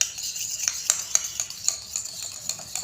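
Aloe vera hair mask stirred in a bowl, a rhythmic series of light clinks and soft wet scrapes repeating about every third of a second, close and fairly quiet, without speech.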